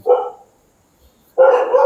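Nearby, a dog lets out a short loud howling bark, falls silent for about a second, then starts again with a longer sustained howl.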